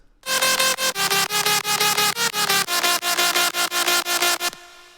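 A bright synth lead doubled by a gritty mid bass drives a melodic jump-up drum and bass drop, the layered stabs hitting hard in a tight repeating rhythm, loud and full before stopping sharply.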